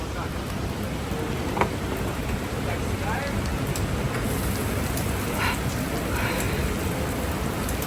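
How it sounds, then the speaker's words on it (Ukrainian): Steady rain falls outdoors in cold weather, a dense close patter on surfaces throughout, with a few brief spoken words over it. "Падає дощ."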